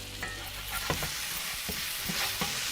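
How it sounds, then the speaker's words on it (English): Coconut curry sauce for shrimp and scallops bubbles in a pan with a dense, close hiss and crackle, steady throughout with a few faint utensil clicks. "Let it simmer down some more."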